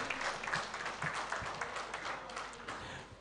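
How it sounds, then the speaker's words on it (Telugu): Audience applause at a political rally speech, a dense, steady wash of many hands clapping that continues at even loudness throughout, with no voices heard. "చప్పట్లతో మీరు కృతజ్ఞతలు తెలియాల్సిందిగా కోరుతున్నాం."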